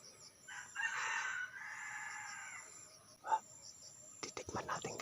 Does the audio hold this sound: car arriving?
no